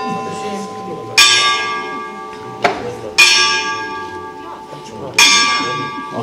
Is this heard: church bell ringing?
yes